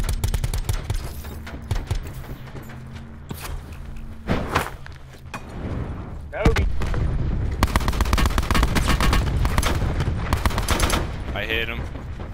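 Video game shootout with rapid bursts of automatic gunfire and single sharp shots, loud and close, mixed with footsteps and player voice chat over the top.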